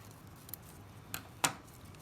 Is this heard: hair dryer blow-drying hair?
no